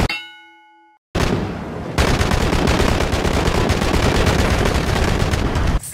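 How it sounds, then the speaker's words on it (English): Gunfire in PUBG (PlayerUnknown's Battlegrounds): a sharp ringing clang gives way to a dense, continuous barrage of rapid shots, loud and close, with another burst joining partway through. "Oh, now we're getting shot at, dude."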